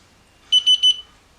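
A digital torque meter beeps while scope rings are tightened on a vice-mounted rifle: three short, evenly spaced high-pitched beeps, clear and close, in an otherwise quiet room.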